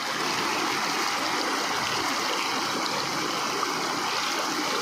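Steady, loud rush of a flooded, fast-flowing river in the Konkan, continuous and close, with no pauses or voices.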